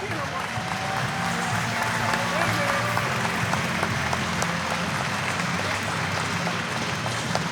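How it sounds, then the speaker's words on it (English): An audience at the 2024 Lancaster Archery Classic youth female open finals claps in a sustained, moderately loud round, while an announcer's voice carries over the applause. "Let's give her a big round of applause."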